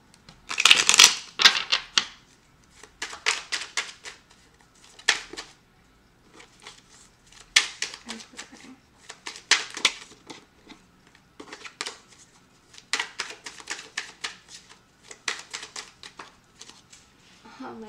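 Tarot cards riffled and shuffled in repeated bursts of quick crisp flutters, close and fairly quiet, with brief pauses between chunks.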